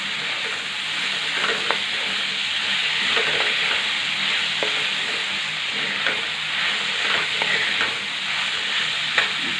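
Sprouted moth beans sauté in oil and masala, a steady loud sizzle with scattered scrapes and clicks of a spoon stirring through the pan at irregular intervals, no voices.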